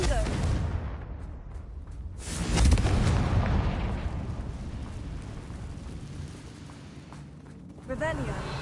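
A Confringo spell blast in a video game: a heavy, booming explosion with a deep rumble that rolls on for several seconds, while a voice speaks over it.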